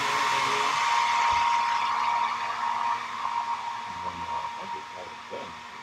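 A foldable hair dryer blows steadily with a loud broadband whoosh for several seconds, while a person speaks faintly underneath toward the end.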